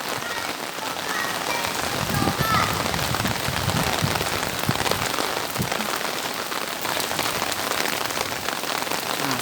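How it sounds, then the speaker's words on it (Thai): Steady rain pours down in a dense, continuous patter on surfaces nearby, with faint voices briefly audible beneath it. "ฝนตกก็ไม่หยุดแล้วลูก"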